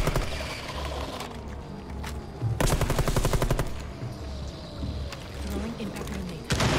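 Automatic gunfire in Rainbow Six Extraction rattles in quick bursts, with one long sustained volley in the middle, set against game ambience and a voice speaking over the action.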